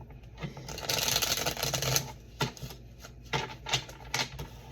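Tarot cards are shuffled by hand close up: a long riffling burst, then several shorter crisp flutters and taps in quick, uneven succession.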